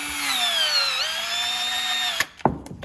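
A Milwaukee M12 cordless PVC cutter runs with a steady, high-pitched motor whine as it cuts through plastic pipe for a sink tailpiece. It stops abruptly, followed by a brief clatter of handling.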